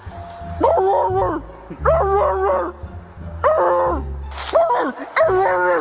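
A police officer imitates a dog, giving four or five loud, close, barking and howling yelps in a rough rhythm, each voiced bark followed by short pauses.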